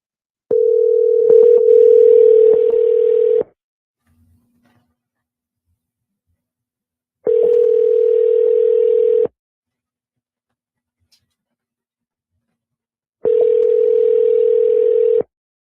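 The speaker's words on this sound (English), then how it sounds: "Let's see if they answer the phone." Ringback tone of an outgoing telephone call, heard as three steady, loud tonal bursts about two seconds long, separated by several seconds of silence, with no voices.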